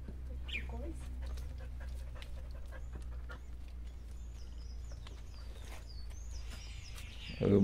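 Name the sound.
small dog panting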